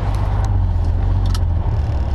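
A car drives along a highway with a constant low engine drone and road rumble from inside the vehicle, with a few faint clicks and rattles over the steady noise.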